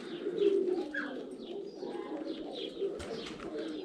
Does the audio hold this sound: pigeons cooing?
yes